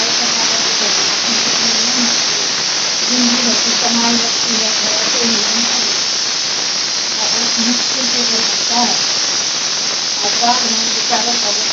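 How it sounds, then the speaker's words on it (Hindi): Heavy rain in a flood-hit season, a steady, loud broadband hiss filling the whole clip, with a voice talking faintly underneath at times. "मतलब इतनी बारिश आ रही है"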